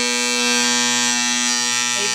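Electric hair clippers buzz loudly and steadily after an adjustment of the blade screw, a dense close-up motor hum with a rattling edge and a slight shift in tone near the end, with no talking.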